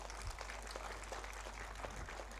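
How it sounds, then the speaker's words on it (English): An audience claps together at an industry conference hall. The applause is faint, dense and steady, with no voices over it. "Let us have a big round of applause for everyone."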